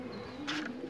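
A favourite pet pigeon gives a brief, soft coo close by, a single muffled burst over a steady low background hum.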